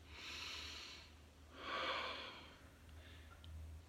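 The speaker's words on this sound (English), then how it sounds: "take a deep breath." Two slow, deep breaths, a long airy inhale then a fuller one, close and soft in a quiet room, followed by a faint trailing exhale.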